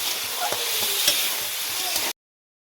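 Tomatoes fry in oil in a pan for tomato chutney, producing a steady, dense close sizzle with faint stirring clicks throughout, then cutting off abruptly into silence.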